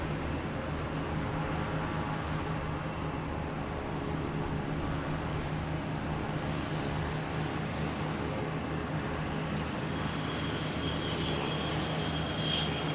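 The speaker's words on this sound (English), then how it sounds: "We have American Airlines lined up on 4 right. It's going to be heading to JFK in E175." American Airlines Embraer E175 jet lined up on runway 4 right at Boston Logan, a steady, broad engine roar holding at even loudness throughout with no voices.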